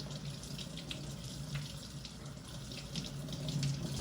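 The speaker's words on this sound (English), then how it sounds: "rinse your hands off with water" A tap runs steadily as water rinses hands at a sink, a continuous close splashing flow with no voices over it.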